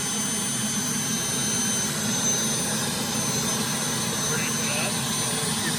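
Turbine engine of a Starwood Lama helicopter running at idle, a steady loud whine and roar with a constant broadband rush and no change in pitch throughout.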